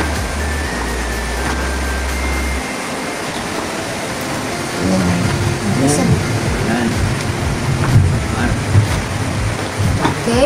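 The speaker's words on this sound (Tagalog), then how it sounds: "Okay, umuulan sa labas." Steady rain falls outside a home while a meal is being cooked, a continuous broadband hiss running the whole time, with voices talking over it and some kitchen clatter.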